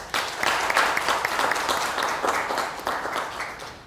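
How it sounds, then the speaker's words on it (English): Audience applause for new students at a Montego Bay Community College convocation in Jamaica: dense, steady crowd clapping filling the hall with no talk. "I ask that everyone give them a round of applause."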